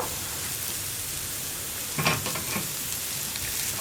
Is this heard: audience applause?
no